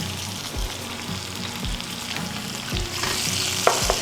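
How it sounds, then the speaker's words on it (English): Butter and sliced mushrooms sizzle loudly and steadily in a pan, with a few soft, regular stirring strokes running under the continuous frying hiss. "So we have the butter, the sliced mushrooms, and the risotto coming to a boil now pretty much."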